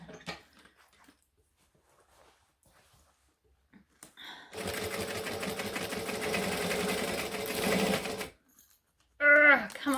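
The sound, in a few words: sewing machine stitching thick fabric for a bag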